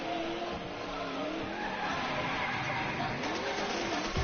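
Car tires squealing and skidding on drift wheels in a racing video game, a continuous loud screech with engine drone underneath lasting the whole stretch, close and steady.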